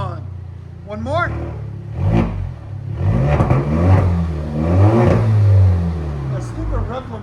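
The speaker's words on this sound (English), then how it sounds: "They put a rev limiter on there." Loud, close revving from a 2020 Alfa Romeo Stelvio fitted with straight pipes, the exhaust climbing in a few sharp pulls and bouncing off the rev limiter, with voices heard over it.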